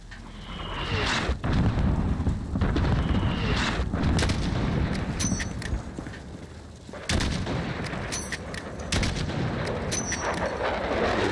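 Gunfire and explosions in the Call of Duty: Modern Warfare video game on the Highway of Death level, a constant loud barrage of shots and booming blasts with sharp cracks standing out, no talking.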